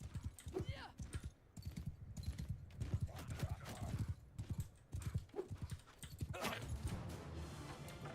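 Horse hooves clip-clop and gallop in a video game battle, with a brief whinny, heard under steady commentary from a player.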